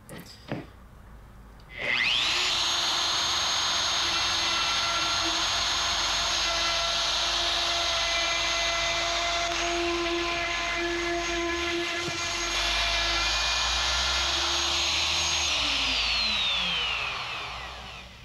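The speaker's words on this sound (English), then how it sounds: "Now I'm going to cut this out using a circle cutter jig." A router on a circle cutter jig cutting out a wooden gear: a high steady whine spins up, holds loud and close for about fifteen seconds as it cuts through wood, then winds down.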